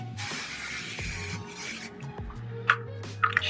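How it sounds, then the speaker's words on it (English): Hair spray hisses onto hair in two close bursts, a longer one followed by a shorter one, before quieter handling sounds and a couple of small clicks. "Yeah, I'm gonna spray it now."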